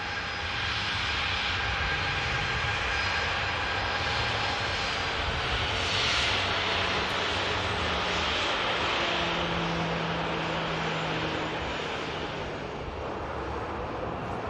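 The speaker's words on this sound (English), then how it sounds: "the Lux there, Dash 8, is now beginning the taxi as it heads back to base on the return leg" Dash 8 turboprop airliner starting to taxi at Manchester Airport, a steady moderate engine drone with a faint low propeller hum, heard from some distance and alone without voices.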